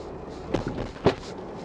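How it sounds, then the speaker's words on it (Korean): Heavy Mercedes EQS 450 electric SUV crossing a speed bump at speed, with two distinct dull knocks from the rear suspension about half a second apart over quiet cabin rumble. "리어가 쿵 이렇게 치는 이런 느낌"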